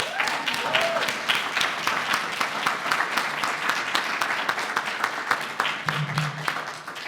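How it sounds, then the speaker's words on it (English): An audience at a speaking event gives warm, sustained applause, dense clapping that carries on at an even level for about seven seconds, with a brief voice near the end. "Please give a warm applause to everyone who has spoke and listened."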